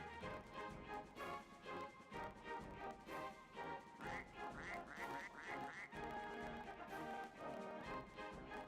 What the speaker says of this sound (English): For some reason this game makes a duck sound.